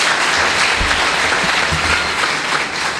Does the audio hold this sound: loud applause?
yes